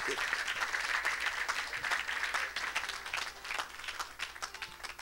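A church congregation applauds and cheers for Jesus Christ, steady dense clapping from a large crowd filling the room throughout.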